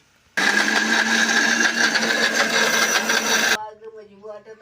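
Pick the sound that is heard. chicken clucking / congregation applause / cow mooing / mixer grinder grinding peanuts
mixer grinder grinding peanuts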